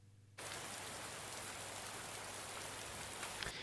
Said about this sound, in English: It's raining in the scene, so like always, I have my atmospheres.